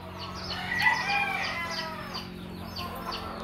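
A rooster crows nearby, a loud drawn-out call over a steady low hum, followed by softer clucking sounds.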